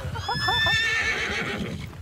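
A horse whinnies loudly in a video game battle, one long rising-and-falling neigh with hoof clatter and busy battle noise beneath it.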